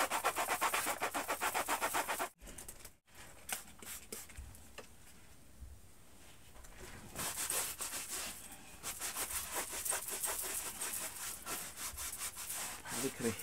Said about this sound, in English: So this is just a dollar store sander.